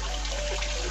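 Mountain spring water pouring from the Pancuran Mas spout on Gunung Pesagi, a steady close splashing trickle with a low hum beneath, alone without voices.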